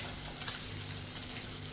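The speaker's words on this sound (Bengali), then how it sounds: "মাছ ভাজা হচ্ছে" Fish pieces frying in a pan for a macher jhal, giving a steady, soft hiss and sizzle throughout with no talking.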